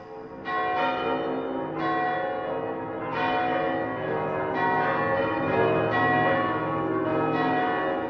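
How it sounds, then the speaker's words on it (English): Church bells ringing, several loud bright strikes in a loose repeating rhythm, each one ringing on and overlapping the next, with no voices. "Bells ring throughout the South."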